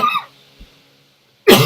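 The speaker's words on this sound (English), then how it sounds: "I'm sorry you had to hear me cough." A person coughs, one short burst followed by quiet and then a second louder cough, close to the microphone during a recorded maths lesson.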